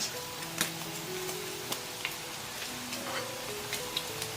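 Shredded chicken is stir-fried in a wok with ginger, garlic, dried chilies and Sichuan peppercorns, giving a steady close sizzle. A few sharp taps of the spatula against the pan are heard, and there is no talking.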